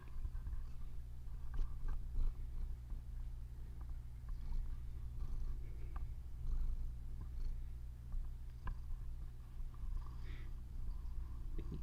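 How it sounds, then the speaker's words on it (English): A cat purrs steadily and close up, a continuous low rumbling drone with soft fluttering pulses and a few small clicks, no voices. "Do you want to purr into the mic?"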